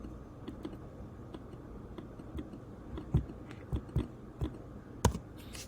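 Soft, quiet clicks of typing on a laptop keyboard, irregular taps in small bursts with a few sharper keystrokes, heard close and alone.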